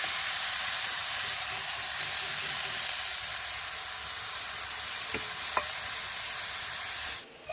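Turmeric and chili powder frying and being stirred in a pan, a loud continuous sizzle with a couple of sharp utensil taps near the end before it cuts off.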